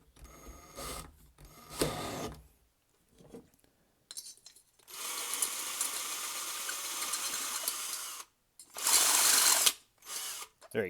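A smaller drill bit bores into the head of a golf driver in intermittent bursts of harsh, grinding whir, stopping and restarting several times at close range.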